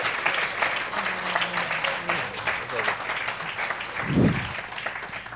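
An audience at a forum on elder abuse applauds warmly, a dense, sustained wash of clapping at moderate distance, with a spoken voice faintly underneath and a brief low thump near the end.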